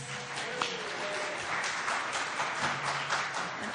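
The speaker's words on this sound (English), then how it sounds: "Round of applause for our artists." A crowd applauds the artists with a soft, even wash of many hands clapping at a moderate distance that holds steady for a few seconds.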